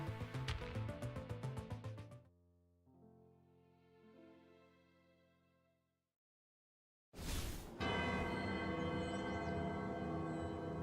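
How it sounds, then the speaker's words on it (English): A deep bell in the Wuthering Waves video game resonates through a valley, its long harmonic tones ringing out and slowly fading after a burst of game music, before loud music and effects return. "a bell begins to resonate through the valley"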